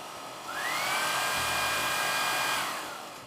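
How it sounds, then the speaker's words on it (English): A counterfeit Dyson cordless vacuum cleaner on its lowest power setting starts up with a rising whine, holds a steady high-pitched motor whir close by, then winds down as it shuts off. "I'm vacuuming on low power and I just turned it off a moment ago"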